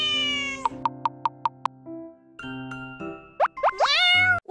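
Cartoonish game sound effects from the Play Together video game: a synthetic meow, a quick run of plopping taps, and rising, springy boing-like tones, all clean and close with no talking.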